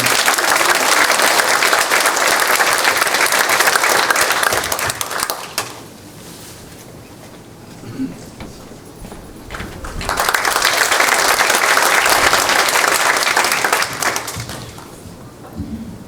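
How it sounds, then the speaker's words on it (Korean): A church general assembly gives loud, sustained applause to welcome a pastor standing as candidate for vice moderator, the clapping swelling, easing to a lull mid-way, then rising again in a second strong wave before tapering. "큰 박수로 모시도록 하겠습니다"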